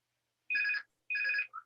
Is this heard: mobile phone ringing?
yes